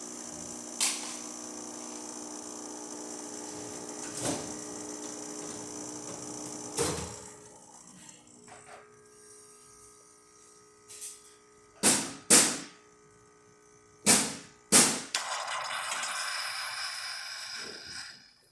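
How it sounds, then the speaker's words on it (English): A Rancilio Silvia espresso machine, freshly serviced, pulls a shot with a steady pump hum that runs throughout, broken by a few sharp knocks and clunks from the machine toward the end. "just to show that it can pull a shot, the espresso function works."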